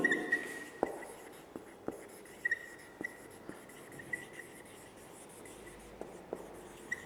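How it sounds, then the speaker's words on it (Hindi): A marker or chalk writes a line on a board in close, faint scratchy strokes with small taps where each stroke starts, set against a quiet room hum. "देखो फर्स्ट लाइन लिखती हूं मैं"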